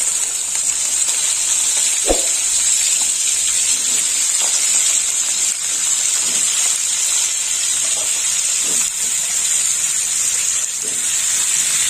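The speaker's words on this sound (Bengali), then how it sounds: "এই তেলে এই দেখুন বন্ধুরা, চিচিঙ্গা আর পটলটা ভেজে নেব" Cut snake gourd and pointed gourd fry in hot oil with a continuous loud, close hiss and sizzle, broken by one sharp knock early on and faint scattered crackles.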